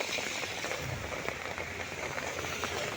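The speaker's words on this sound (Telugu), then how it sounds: "చెట్టు కింద వాన పడుతూనే ఉంది" Steady rain falls around a tree at a roadside center, a continuous dense patter with scattered drop hits under the leaves, close and fairly loud with no voices.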